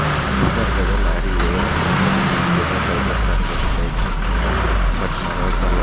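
A heavily loaded lorry on a climb roars with a loud, sustained low engine drone that strains steadily and never lets up, close and overpowering.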